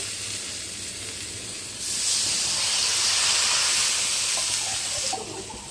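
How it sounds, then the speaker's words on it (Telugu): Chicken stock water poured into a hot pot for mandi biryani, a loud rushing hiss that swells suddenly and holds for about three seconds before dropping back to a faint background hum. "చికెన్ ఉడికిన నీళ్ళు అవి వేసుకుందాం వేగనిచ్చి."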